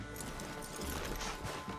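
Horse hooves clip-clopping in the video game Red Dead Redemption 2, a quiet, steady rhythm of footfalls at woodland scrub with no talk.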